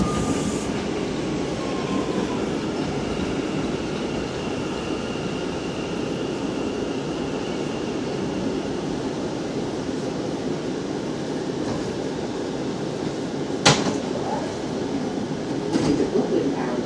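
New York City subway A train on the IND Fulton Street Line rolling steadily, a continuous loud rumble and rail roar with faint wheel squeal and a brief sharp clank near the end.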